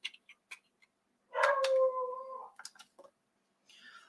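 A dog howls in one sustained, wavering note lasting about a second, loud and close, surrounded by brief clicks and small handling noises in an otherwise quiet room.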